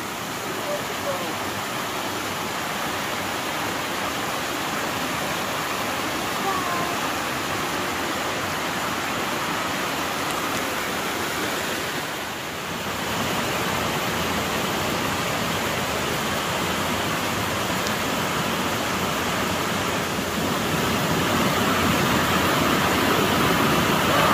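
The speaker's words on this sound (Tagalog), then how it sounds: "Ayan, makinig na lang sa sapa." A stream flows steadily beside Mallyan Spout waterfall, a constant broadband rush of water from start to finish that swells slightly toward the end.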